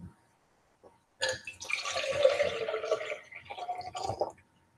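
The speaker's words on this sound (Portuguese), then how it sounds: "Agora eu vou acrescentar essa água aqui." Water is poured into a calorimeter in a physics lab demonstration on the specific heat of solids: after a couple of faint knocks, a steady splashing pour runs for about three seconds and then stops.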